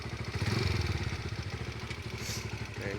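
A WK 125RR motorcycle with a stock exhaust runs steadily, its 125 cc single giving a close, even, pulsing engine note that holds throughout with slight throttle variation.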